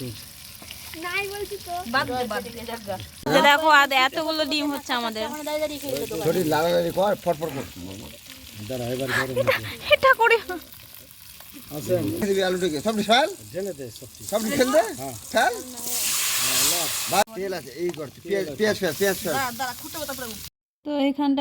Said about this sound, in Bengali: এখন ডিমের তরকারিটা রান্না হচ্ছে